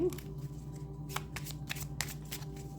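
A single card is drawn from a deck. Several short, crisp papery flicks and slides sound close and quiet over a faint background hum.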